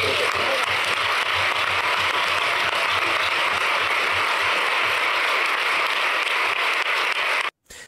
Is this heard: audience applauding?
yes